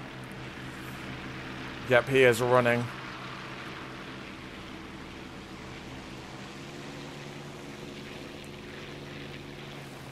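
An overheating I-153 biplane engine drones steadily throughout a War Thunder flight, with a brief burst of someone talking over it early on.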